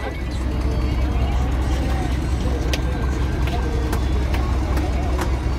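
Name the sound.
boat engine running in Sundarbans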